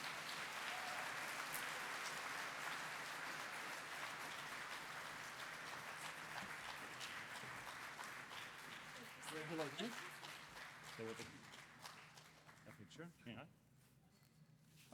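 An audience applauds an award winner at a neuroscience conference. The clapping is steady and full at first, then thins and fades as voices and stage talk take over.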